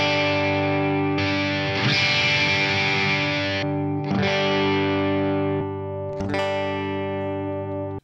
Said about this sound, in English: now I can seamlessly switch from this pristine clean to my chimey sound to my big chunky sound.